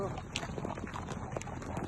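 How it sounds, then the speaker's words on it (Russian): Yakut horses walking at night, hooves clopping in a steady uneven rhythm of soft repeated knocks, close by, under continuous background noise with voices talking. "Лошади идут."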